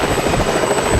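A helicopter's rotor and engine produce a dense, steady roar with a continuous high whine, loud and close for about a second with no voices.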